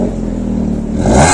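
A modified Maruti Swift's engine revs with the exhaust valve closed, a close, loud, muffled drone that rises sharply in a brief burst of throttle near the end.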